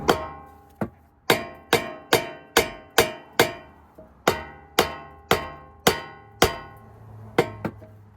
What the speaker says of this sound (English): go ahead and hammer on here so we can disconnect the upper control arm from the steering knuckle